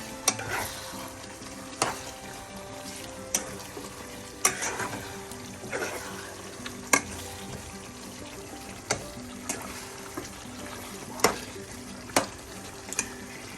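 A spoon stirs chicken pirattu with half a teaspoon of garam masala in a pan, knocking and scraping at a regular pace over a soft, steady sizzle of frying.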